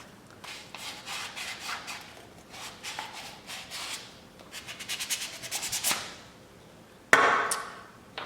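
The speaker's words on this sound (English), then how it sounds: "Our next step is to sand the top of the plunger tube where we cut this piece off from." Sandpaper rubbing the cut top edge of a Nerf Dual-Strike plunger tube, a run of quick scratchy back-and-forth strokes, close and fairly loud, ending with a brief harsher burst.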